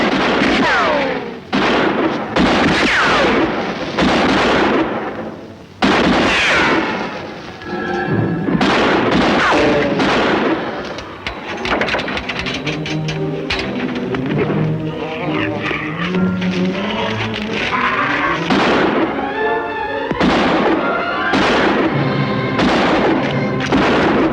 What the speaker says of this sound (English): What are they shooting at us for?